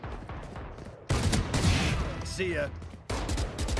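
Video game gunfire during an online match watch party: bursts of rapid shots crackle loudly for a couple of seconds, with a voice briefly speaking over the action.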